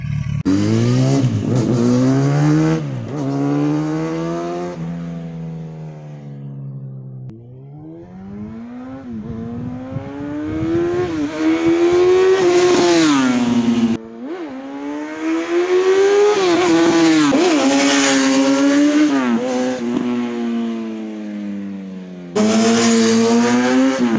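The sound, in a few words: 150 hp roadster exhaust revving at high RPM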